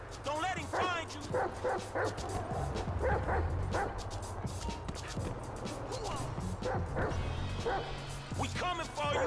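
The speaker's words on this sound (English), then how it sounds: "This right here is one sick, nasty-ass motherfucking dog." Dog barks and yips from the character Chop in Grand Theft Auto 5, repeated in quick bursts over loud game action, with people talking throughout.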